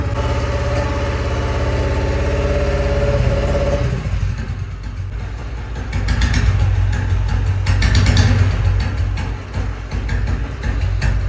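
An old-model Bullet motorcycle fitted with a Mini Punjab short-bottle silencer exhaust: a steady, throbbing idle for the first few seconds, then louder, rougher revving with crackling exhaust bursts that rise and fall through the rest of the run.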